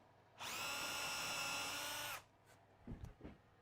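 Drill boring a 3 mm screw hole into a bespoke wooden table, one steady whining burst of almost two seconds up close, followed by a few soft knocks and handling sounds.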